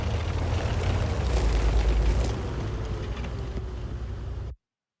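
A Hummel howitzer shell slams into the rear side of a vehicle in a video game, a heavy booming explosion with deep rumble that decays over several seconds before cutting off abruptly.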